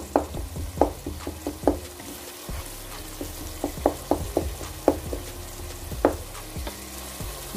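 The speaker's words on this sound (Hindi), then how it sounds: "इसको तकरीबन हम 2 से 3 मिनट अच्छे से भून लेंगे" Masala sizzling and frying in a pan while a spoon stirs it for aloo baingan, a steady hiss broken by repeated scraping knocks against the pan, close and alone with no talk.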